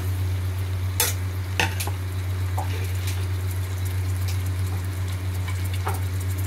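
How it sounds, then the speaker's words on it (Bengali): Onions, green chillies and garlic fry in white cooking oil with a steady close sizzle, broken by a few sharp clicks of a spoon stirring against the pan. "এবারে পেঁয়াজগুলো দিয়েছি সাদা তেলে। পেঁয়াজ দিয়ে এতে আমি দিচ্ছি কি দেখুন, কাঁচা লঙ্কা, রসুন,"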